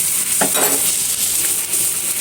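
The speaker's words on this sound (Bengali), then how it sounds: "এই যে বলো ফুটছে সুন্দর।" A fish and vegetable curry with dried fish, eggplant and potato bubbles and sizzles in a pan, a loud, steady close frying hiss with a brief stir.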